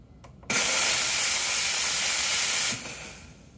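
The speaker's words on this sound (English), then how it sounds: "I'm just gonna purge this real quick just to kind of get you an idea for how much steam power is behind this thing" A La Spaziale S11 Brio espresso machine's steam wand purges in one loud, steady hiss lasting about two seconds, cutting in abruptly and then tapering off, with no talking over it.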